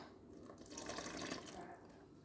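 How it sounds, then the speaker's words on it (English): Water poured into thick millet porridge (Hausa koko) in a pot, a steady close splashing and trickling pour lasting a couple of seconds with no talk. "So I'll go ahead and add in water"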